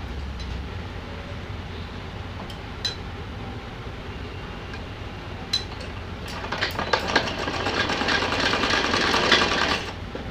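A sewing machine stitches a simple choli-style dress for a Laddu Gopal doll, a soft steady whir that swells into a denser, louder burst of rapid stitching over the last few seconds, with scattered clicks earlier and no talking.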